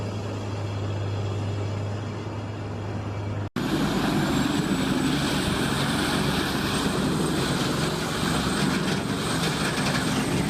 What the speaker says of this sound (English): At a large timber stockyard, the CBI Magnum Force 8400 de Bear is operating at full throttle.